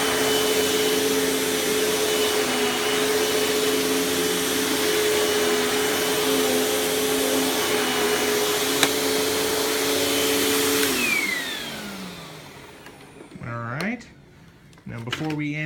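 A Panasonic Performance Plus Platinum MC-UG589 upright vacuum cleaner runs loud and close with a steady motor whine for about eleven seconds, then winds down, followed by a few mechanical clicks and a brief restart.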